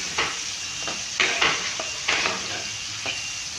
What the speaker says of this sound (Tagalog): Tapos yung bawang. Lagyan natin yung bawang.